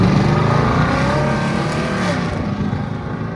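A 2014 Toyota Sequoia 5.7L V8 with true dual straight pipes, high-flow cats and dumps: a loud, rumbling exhaust roar that fades slightly as the vehicle moves away, with no voices.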